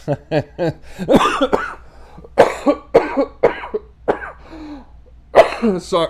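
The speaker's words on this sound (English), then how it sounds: "You made me cough." A man coughs several times in short, harsh bursts close to the microphone, the coughs separated by brief pauses, with some throaty voice sounds between them.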